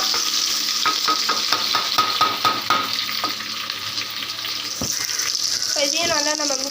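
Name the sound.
curry leaves and onions frying and stirred in pan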